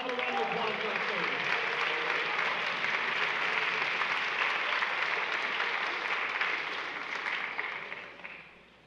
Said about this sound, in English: Have a round of applause for our stage.